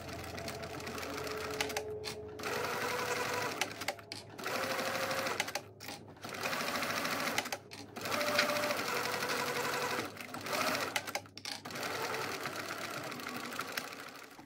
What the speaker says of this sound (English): Now you just need to sew through the bottom of the pocket here with an 1/8 inch seam allowance.